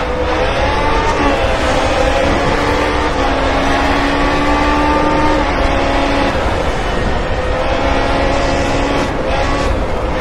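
Race car engine in the Grid Autosport video game, a loud continuous droning engine note that rises and falls in pitch as the car shifts and corners, with tyre and road noise.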